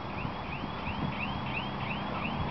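A repeating electronic alarm at the Cathedral of the Blessed Sacrament whoops in quick rising chirps, about three per second, steady and moderately distant over a low background rumble.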